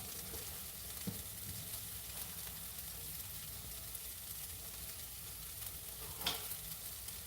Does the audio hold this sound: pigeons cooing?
no